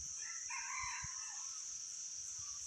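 A rooster crows once at moderate distance in a quiet rural night setting, a clear drawn-out call over a steady high insect drone with faint low thumps.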